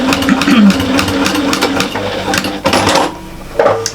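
A sewing machine top stitches binding onto a fabric storage caddy with a close, steady mechanical whirr and rapid needle clatter that pauses and restarts, while someone talks under the machine noise.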